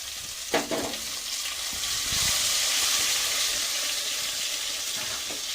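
Oil sizzles steadily with asafoetida, black cumin and green chilli paste frying, a sharp crackle at the start, then a continuous hissing fry with faint stirring scrapes. No voices.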